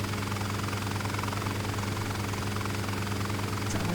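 A Bell 47 helicopter in Flight Simulator drones with a steady, loud engine and a rotor throb that never changes, heard alone without any voices.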